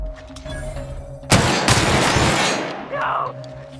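A loud burst of sustained gunfire erupts in The Outer Worlds, a dense rattling volley that runs for more than a second before tailing off into fainter shots, over steady game background tones.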